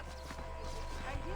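A horse runs toward the player in Red Dead Redemption, its hooves faintly clip-clopping under game music and ambience while a voice talks over it.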